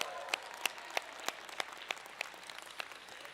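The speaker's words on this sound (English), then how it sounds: "If economic opportunity is your number one issue, clap your hands" An audience at a city budget forum claps in a steady, moderately faint patter, with sharper individual claps standing out at regular intervals over a broad wash of applause.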